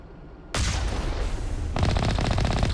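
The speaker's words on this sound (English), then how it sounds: "And a machine gun." A machine gun on the all-terrain vehicle in Mass Effect Legendary Edition fires in loud sustained bursts, a dense rattle that kicks in suddenly after a quiet start and grows heavier with rapid pulsing shots.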